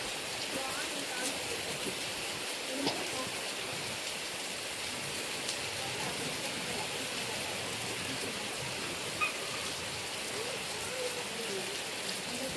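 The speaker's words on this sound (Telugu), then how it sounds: "వర్షం పడుతుంది ఫ్రెండ్స్." Heavy rain pours on a village Vinayaka (Ganesha) temple during an abhishekam ritual, a steady dense hiss of water that continues without a break and may have a faint voice beneath it.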